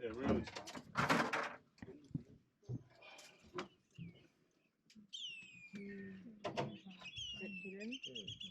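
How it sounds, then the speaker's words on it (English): Whistling kites give high, clear descending whistles, a few repeated calls in the distance beside a croc-inhabited Darwin waterway. Voices speak throughout, and thuds and other noises break in between the calls. "you can hear some whistling kites"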